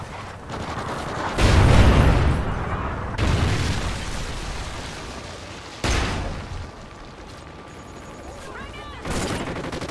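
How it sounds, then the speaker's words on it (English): A Trinity rocket strike in Call of Duty: Ghosts on a team deathmatch map brings several heavy booming explosions, spaced a few seconds apart, each with a rumbling tail amid ongoing battle noise. "Friendly Trinity rocket inbound."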